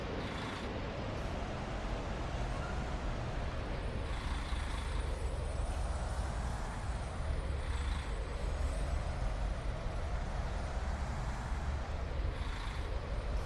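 A coach driving in Fernbus Simulator, its engine giving a steady loud low rumble with hissing air and rising and falling drive tones throughout, no talking.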